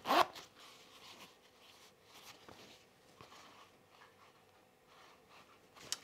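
A quick pull on a zipper sewn into pants rasps sharply at the start, followed by quiet rustling and soft handling sounds with a few faint clicks.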